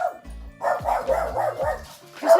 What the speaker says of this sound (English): now he just set the dog off